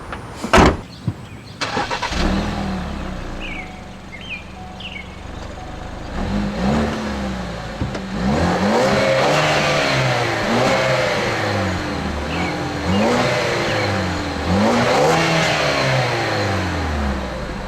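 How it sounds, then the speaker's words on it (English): A 2013 Ford Escape Titanium with a 2-liter EcoBoost engine starts with a door thunk, then idles and pulls away, revving up through repeated gear changes in a rising and falling engine drone, heard from inside, with no talking. "How does the new Escape drive with the 2-liter EcoBoost engine?"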